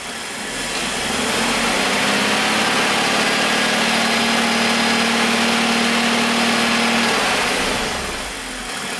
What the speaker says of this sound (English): let me see what happens when we speed up the engine.